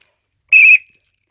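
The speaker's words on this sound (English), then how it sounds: "Very good whistle. It is a peed whistle." A single short, shrill blast from a pea whistle on a 5-in-1 survival whistle, loud and close, with silence before and after.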